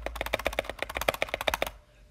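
Computer keyboard spacebar keys are pressed in a quick, fairly even run of about sixteen crisp clicks, heard close and quiet, before they stop and leave near silence.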